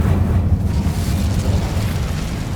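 A loud burst of flame from the Incendio fire spell in Hogwarts Legacy, a dense whooshing roar that holds strong for a couple of seconds with no speech over it.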